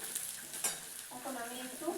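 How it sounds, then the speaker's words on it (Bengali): Garlic paste fries in hot oil with a quiet close sizzle, joined by a few light scrapes and stirring sounds in the pan. "এরপর আমি গরম তেলের মধ্যে রসুন বাটা দিয়ে দিলাম। রসুনটা লাল লাল করে একটু ভেজে নেব।"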